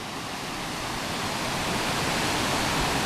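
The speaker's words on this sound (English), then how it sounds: "you can tell there's a waterfall off down in this gorge" Steady, continuous roar of a waterfall deep in a rugged wilderness gorge, a dense broadband rush that holds even and slightly swells, heard alone with no voices.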